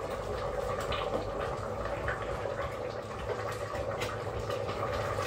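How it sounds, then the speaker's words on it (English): Water with noodles bubbles at a constant rolling boil, a dense, steady simmering noise with occasional pops and no talking. "the water's boiling and it's cooking the noodles"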